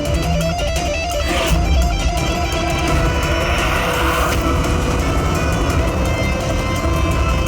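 A getaway car roars off on a city street, its engine and rushing road noise loud and continuous throughout, with no voices over it.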